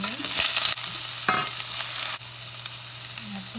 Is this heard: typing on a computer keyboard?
no